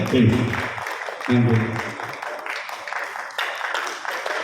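Applause for a music band after their song at a Tamil stage function, a dense burst of hand clapping that surges twice before settling into a steady wash, with a voice speaking over it.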